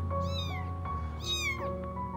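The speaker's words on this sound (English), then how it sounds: "this cat is so pitiful. It was trapped in a very painful way." A trapped cat meows pitifully twice in close succession, two drawn-out, wavering cries rising and falling, heard near and clear over a steady low background hum with no talk.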